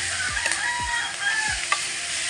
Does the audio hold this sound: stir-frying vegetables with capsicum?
yes